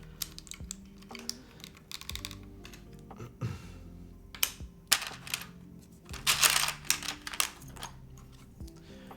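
Rapid clacky keystrokes on a Yunzii AL66 mechanical keyboard, irregular bursts of close, crisp typing with a few louder clustered presses and brief pauses.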